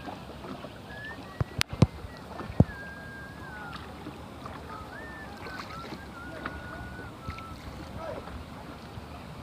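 A small boat glides on the Dawki river in Meghalaya. The water ambience stays quiet, with a few sharp knocks early on and faint thin whistling tones drifting over the hush.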